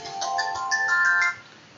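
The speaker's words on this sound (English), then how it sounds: "Sorry about my phone going off there." A mobile phone ringtone plays a bright, melodic electronic pattern of quick repeated notes, loud and close, then cuts off abruptly.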